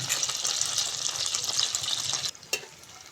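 Pakoras deep-frying in hot oil, a close, loud continuous sizzle and crackle that cuts off abruptly near the end, followed by a brief sharp clink and a quieter fizz.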